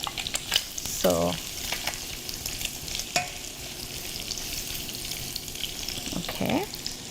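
Onion frying in a pan, a steady close sizzle with a few stirring clinks and scrapes, and a brief spoken word partway through.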